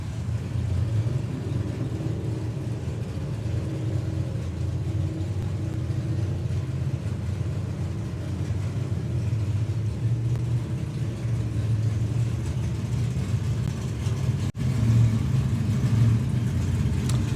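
Plymouth Savoy drag car nicknamed the Rust Bucket at a drag strip, a deep rumbling engine idling and throbbing steadily throughout, loud and near, with a brief dip late on.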